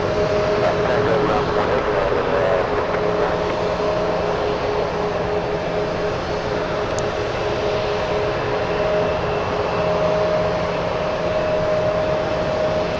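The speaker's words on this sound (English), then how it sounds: "We have a Heavy touching down in just a bit. Heavy, Turkish, flying in from Istanbul, a 787-9 Dreamliner" A Turkish Airlines Boeing 787-9 Dreamliner heavy jet landing at San Francisco International Airport, heard as a steady, loud engine roar with a sustained whine, continuous and unbroken.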